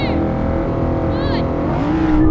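Audi RS cars launching off the line in a drag race, a loud, dense engine roar that holds steady and then swells upward toward the end.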